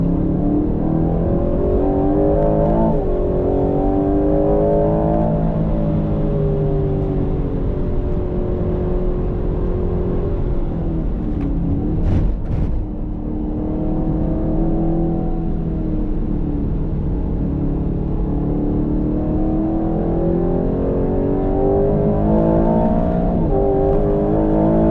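A 2025 Aston Martin Vantage sports car engine on a race track, heard as a loud, sustained roar that rises and falls through gear changes and revs, close and continuous throughout with no talking.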